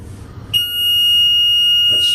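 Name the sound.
lift alarm buzzing while its door is held open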